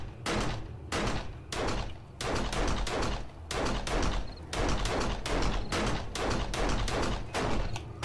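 Rapid bursts of gunfire in the survival video game 7 Days to Die, loud repeated volleys coming in clusters of rapid shots separated by brief pauses, with no talking.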